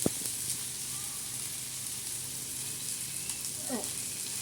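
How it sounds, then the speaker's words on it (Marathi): Ran pathri greens stir-fried in oil with crushed garlic, chilli and onion give off a faint, steady sizzle that holds evenly, with a few soft stirring scrapes and no voices. "आता परतून घ्यायची भाजी"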